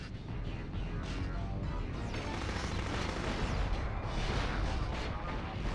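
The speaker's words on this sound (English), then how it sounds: "that heavy weapon power-up sort of splits our Hellfire missiles into multiple missiles that will seek out a different enemy each" Heavy weapon Hellfire missiles firing in the video game Future Cop: LAPD, a dense, continuous barrage of booming blasts and explosions that stays loud and unbroken throughout.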